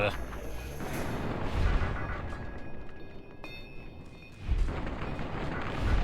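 Bozar machine gun in Fallout New Vegas, booming heavy bursts of fire at the start and again near the end, with a quieter stretch between; a voice talks over it.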